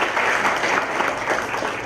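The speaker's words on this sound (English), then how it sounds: "give a round of applause for yourselves right now" An audience at a youth gathering in Dallas gives itself a dense, steady round of applause, a continuous wash of many hands clapping together at fairly close range for a short stretch.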